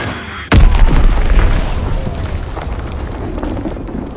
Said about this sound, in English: Enemy strafing run inbound. Enemy bomb incoming.